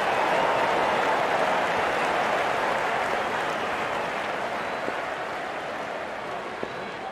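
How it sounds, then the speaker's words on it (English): A packed stadium crowd at a Pakistan versus India one-day international cricket match in London applauds a batsman reaching fifty, a steady, broad wash of clapping and cheering that holds loud throughout and eases only slightly toward the end. "good innings, and gets a grand applause"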